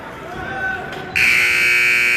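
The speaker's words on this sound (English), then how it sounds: "There's your buzzer at the end of the game." End-of-game horn at an ice hockey match between Owensboro and the Louisville Ice Cards, a loud sustained buzzer blaring in the arena after a moment of crowd noise and commentary.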